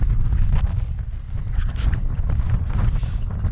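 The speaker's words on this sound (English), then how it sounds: "Now it's a bit windy, but it's not exactly killing us." Wind gusts across the microphone on the Campherskloof hiking trail among rocks and fynbos, a loud, low buffeting rumble that swells and eases continuously, close and with no speech.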